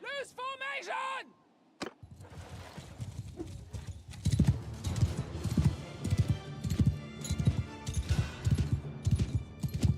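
Horse hooves clip-clop and gallop in the Old Realms mod, with a brief whinny near the start, then a steady, dense run of hoofbeats that grows louder partway through.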